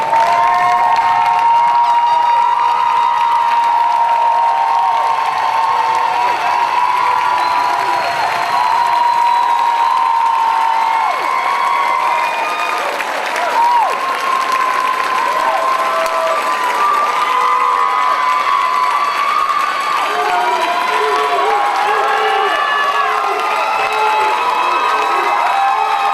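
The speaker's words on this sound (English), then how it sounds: "give them a round of applause" Commencement crowd at a San Jose State graduation applauding and cheering loudly and continuously, with dense clapping, whoops and shouts filling the whole stretch.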